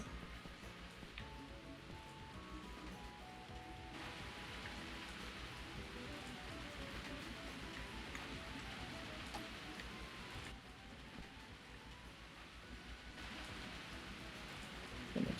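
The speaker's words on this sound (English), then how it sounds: "Oh my gosh, this rain is intense." Rain pours steadily in the farming video game Story of Seasons: A Wonderful Life, a constant soft hiss that runs without a break beneath faint background music.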